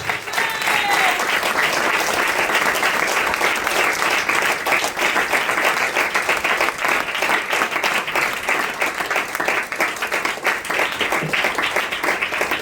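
A church congregation at a Sunday service claps in praise, a dense, steady applause from many hands sustained for about twelve seconds, loud and filling the room, with a voice faintly underneath.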